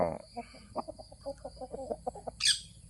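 A chicken clucks in a quick series of short calls, fairly close, with a brief higher squawk near the end.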